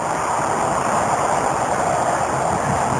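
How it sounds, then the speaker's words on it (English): A waterfall on Los Gatos Creek, seen from a trail by a bridge, produces a steady, loud broadband rush of falling water with no voices, unbroken throughout. "There's the waterfall"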